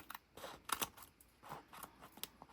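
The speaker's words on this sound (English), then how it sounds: "Let's trim it up to where we're even." Scissors trimming notebook paper for a junk journal page, a quick series of close, crisp snips and paper rustles at a quiet level.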